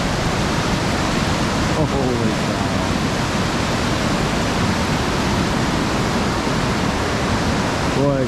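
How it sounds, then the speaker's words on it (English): Rushing river rapids in Yellowstone roar as a steady, dense wash of whitewater, loud and continuous throughout, with a man's brief exclamation over it. "That river is really rushing."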